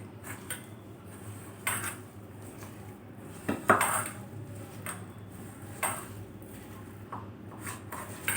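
Fried potato skins being mixed by hand in a bowl, with soft intermittent clinks and rustles of the bowl and contents at close range, no talking.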